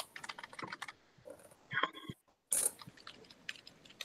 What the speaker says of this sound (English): I see them furiously typing at the moment.